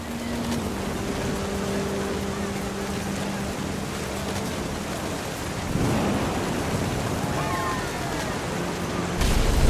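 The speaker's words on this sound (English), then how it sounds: "The thunder sounded much too close and full of angry power." Rumbling thunder rolls through a storm in the video game What Remains of Edith Finch, a broad steady roar with rain-like hiss that swells near the end, no voices.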